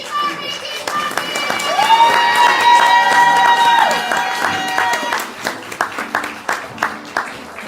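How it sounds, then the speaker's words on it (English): Audience at a poetry slam keeps clapping, loud cheering and whooping swelling then thinning into scattered individual claps, with the host's amplified voice speaking over it. "Keep clapping, keep clapping."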